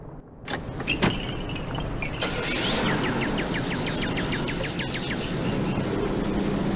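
A car starts up and pulls away near a beach with surf, with a door thud and mechanical clicks early on, then a steady engine and road rumble that holds fairly loud without speech.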